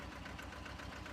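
A small tractor engine idles in a steady, rapid low chugging pulse with a vibrating rattle, moderately quiet and continuous, no voices.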